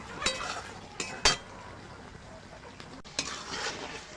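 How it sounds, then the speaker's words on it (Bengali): A spoon scrapes and clinks against a pan while garam masala paste is stirred into a potol and shrimp curry, with a few sharp metallic taps over a soft background sizzle. "আমি গরম মশলাটা দিয়ে একটু নাড়াচাড়া করে নিয়েছি"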